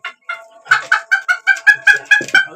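Chickens clucking in a steady series of short calls, about ten in a row, close and fairly loud with no talking.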